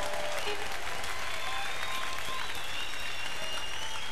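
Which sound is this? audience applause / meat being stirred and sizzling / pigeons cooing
audience applause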